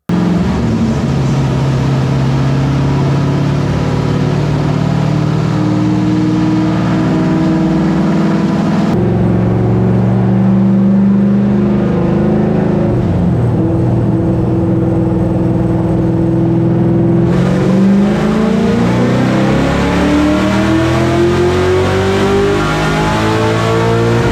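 A tuned car engine revs hard through rising gears on a dyno, loud and continuous with climbing pitch sweeps and no talk.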